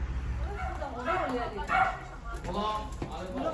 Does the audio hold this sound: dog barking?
yes